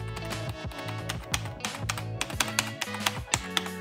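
Rapid typing on a Logitech G213 rubber dome keyboard, a dense run of soft, close clacks and taps with some louder keystrokes standing out, no voices.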